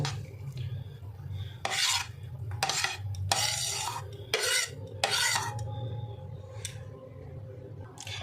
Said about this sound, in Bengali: এবার আমি পনিরটা এই বাটিতে নিয়ে নেব নিয়ে পনিরটা মাখবো